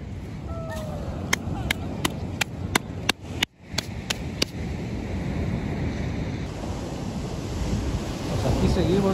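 Ocean surf rolls and washes continuously on a beach, with gusty wind buffeting the microphone, a series of sharp clicks early on, and the waves swelling louder toward the end.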